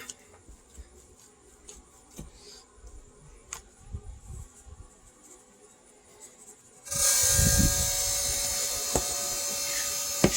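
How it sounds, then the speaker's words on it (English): Pit Boss Pro Series vertical smoker's fan switches on partway through: after quiet scattered rubbing and clicking, a loud, steady, broadband whooshing drone starts abruptly and holds close and constant to the end, with no talking. "That's that fan on the smoker."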